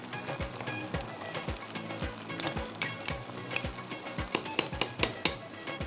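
A spoon stirs egg and condensed milk into bread halwa in a pan, giving repeated rhythmic scraping taps over a soft frying sizzle, and the strokes grow sharper and quicker toward the end.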